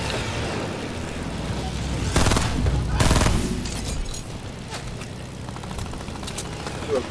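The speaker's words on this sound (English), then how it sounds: "are these guys with a minigun again?" A minigun fires in a battle royale video game, with rapid bursts of gunfire midway over a constant background of game noise. Players talk throughout.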